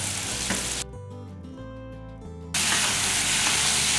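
Garlic and tomatoes sauté in a pan for a chutney, with a close sizzling hiss that drops out partway through for a brief gap before returning louder, and no talking.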